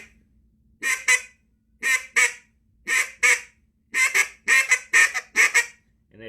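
A Duck Lander duck call blown in the Cajun squeal or bouncing hen style: paired two-note raspy quacks, loud and close, repeating in about seven bursts that come quicker and closer together, with no voices.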